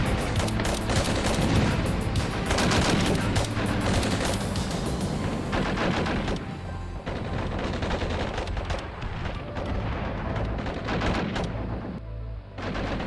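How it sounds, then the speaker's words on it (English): Heavy gunfire and explosions in an Armored Brigade II battle, with troops unloading from BTR carriers under fire: sustained, loud volleys of rapid shots and booms that thin out slightly toward the end. "BTRs unload troops and come under fire."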